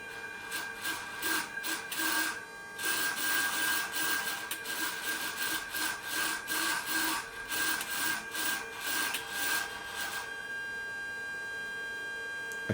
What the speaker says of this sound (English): You can hear the stepper motor.